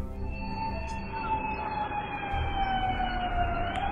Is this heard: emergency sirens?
yes